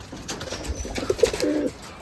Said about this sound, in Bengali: তো এই হলো ভাইয়ের কবুতর